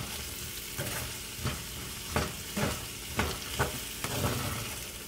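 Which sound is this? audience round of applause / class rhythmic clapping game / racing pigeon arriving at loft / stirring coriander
stirring coriander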